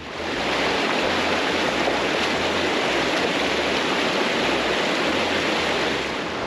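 A river rushing past, with steady broadband water noise and low churning close by throughout, and no voices.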